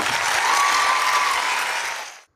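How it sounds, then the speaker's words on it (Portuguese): A studio audience bursts into loud, dense applause that sustains evenly, then fades out near the end; a faint tone runs beneath briefly and no one speaks. "Pode aplaudir aí."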